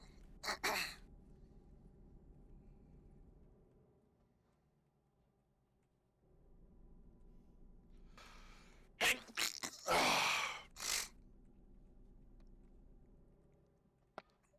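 A single loud sneeze bursts out at close range, with a sharp breathy onset and a short trailing release, standing out against quiet room noise.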